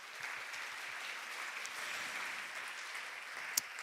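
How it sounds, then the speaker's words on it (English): Conference audience applauding for a moderator and panel speakers, a steady sustained wash of clapping from a large hall crowd that continues throughout, with one sharper clap standing out near the end. "please give another big round of applause to our moderator and speakers"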